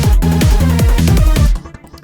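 A self-made Eurobeat track with copy-pasted sections plays back loudly, punchy repeated kick and synth-bass pulses in a driving rhythm before cutting off abruptly near the end.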